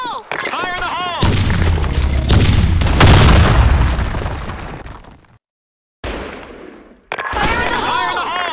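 A loud grenade blast in the online shooter BlackShot booms and rumbles for several seconds, followed by a brief silence and further sharp bursts of gunfire.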